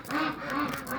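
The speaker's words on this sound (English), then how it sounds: "Ducks are very excited." Excited ducks quacking on a cold day at a goat farm, a short run of close, moderately loud nasal calls with no talking.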